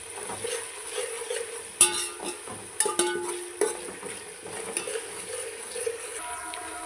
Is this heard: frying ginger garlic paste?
yes